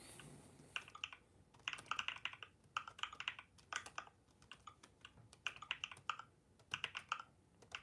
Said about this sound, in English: that's me installing a mechanical keyboard sound on my MacBook